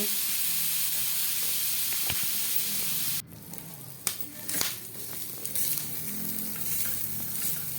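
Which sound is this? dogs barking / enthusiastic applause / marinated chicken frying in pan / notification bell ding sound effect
marinated chicken frying in pan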